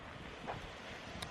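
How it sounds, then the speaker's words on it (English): Wind gusts outdoors on a road trip through Arizona, a steady rushing buffet against the microphone with faint brief bumps, fairly quiet overall. "Woo, it's windy."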